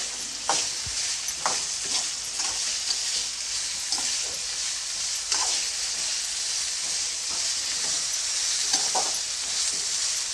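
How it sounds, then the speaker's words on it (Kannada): Brinjal pieces fry in hot oil for vangi bath, giving a steady, loud, close sizzle with occasional crackles and soft stirring scrapes throughout, with no voices. "ಬದನೆಕಾಯಿನ ಎಣ್ಣೆಯಲ್ಲಿ ಚೆನ್ನಾಗಿ ಫ್ರೈ ಮಾಡ್ಕೊಳ್ಳಿ"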